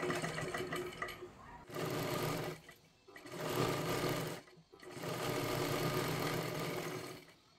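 A sewing machine stitching a katori blouse runs in three bursts of rapid, whirring stitching, separated by short pauses, close and steady.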